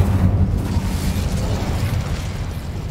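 Incendio fire spell going off in Hogwarts Legacy: a loud, rumbling fiery blast that stays dense and roaring throughout, with no voices.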